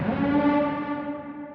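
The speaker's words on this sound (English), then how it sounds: "Kind of sounds like a Star Wars cinematic siren." A sustained, rich synthetic vocal tone swells like a siren, holding steady harmonics with an echoing, cinematic sheen before fading away.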